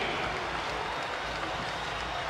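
A pro-Siena crowd in Albany at a MAAC Championship basketball game against Iona roars and applauds steadily in a loud, broad wash of arena noise.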